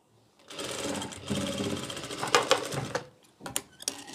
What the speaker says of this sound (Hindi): और यहाँ पे हम सिलाई लगाएंगे